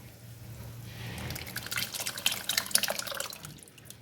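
Rasam liquid pours and splashes into a pot, a rushing trickle with scattered bubbling drips, fairly close and steady for a few seconds.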